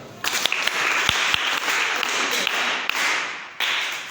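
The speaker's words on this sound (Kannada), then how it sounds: "Very good. ಚಪ್ಪಾಳೆ ಹೊಡೆಯೋಣ." A group of children clapping together in a steady burst of applause, close by, with a few sharper individual claps standing out.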